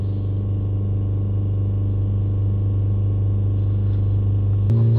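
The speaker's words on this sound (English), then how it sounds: "Now we'll get back in here, we're going to hold the revs up to 3000 RPM." A Ford Transit Connect engine, with a diesel particulate filter fault, holds a steady fast idle near 3000 RPM. The drone stays even and continuous throughout, loud and close, with a slight shift right at the end.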